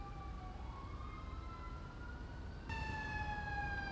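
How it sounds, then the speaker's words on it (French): A fire engine siren in a French police patrol video game wails with steady rising and falling tones, then jumps suddenly louder and closer near the end as the truck arrives. "Ah, bah les pompiers, ils arrivent."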